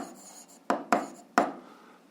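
Chalk or pen taps and scratches against a board while writing an equation, with three sharp knocks close together over a quiet background of faint scraping.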